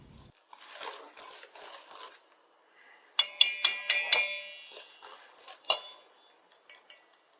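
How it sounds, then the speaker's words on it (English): Cupcake batter mixed in a bowl, with soft scraping strokes followed by a burst of quick, ringing clinks of a utensil against the bowl, close and fairly clear with no talking. "Mix gradually."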